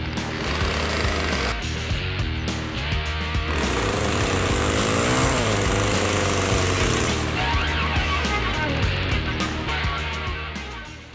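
A chainsaw roars loudly and continuously, its buzzing engine rising and falling slightly as it cuts into a wood sculpture being carved.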